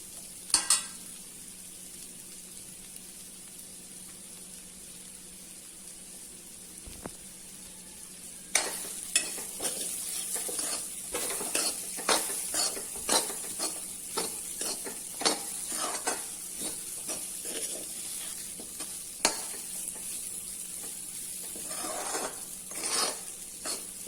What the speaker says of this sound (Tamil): மசாலா எல்லாம் எண்ணெயிலே நல்லா ஃப்ரையாக வருது